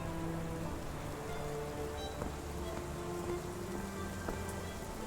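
Steady rain falls on surfaces with scattered drips at a muddy dockside in the video game Sherlock Holmes: The Awakened, soft and continuous, beneath a faint tonal background hum.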